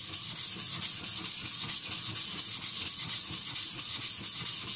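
Tojiro Shirogami nakiri knife ground on a King 300 grit whetstone, a close, steady rhythmic scraping of steel on wet stone, repeated strokes with even pace and no talking.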